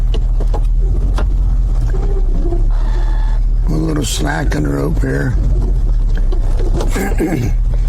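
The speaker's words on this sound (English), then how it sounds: "Shut off the truck." A truck engine idles with a low, steady rumble while pulling a log with a rope. Someone talks over it throughout, and the loud drone stays constant under his voice.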